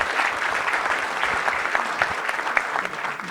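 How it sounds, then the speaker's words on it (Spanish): An audience at the COINCyDES business event gives a guest steady, dense applause, a full room clapping continuously with faint voices mixed in. "Un aplauso, por favor, a Pepe."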